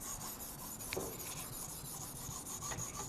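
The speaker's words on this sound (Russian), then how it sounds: "Arkansas Hard работает не очень быстро, но вполне адекватно своей зернистости." An Opinel knife being sharpened on an Arkansas Hard stone in a TSPROF Blitz 360 guided system gives a steady, quiet rasping scrape that runs throughout, with one slightly sharper stroke near the middle.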